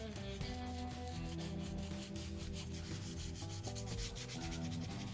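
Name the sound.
hand sanding epoxy resin with sandpaper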